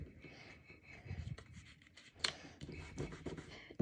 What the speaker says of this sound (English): I finished cutting out the circular shapes here in the half circles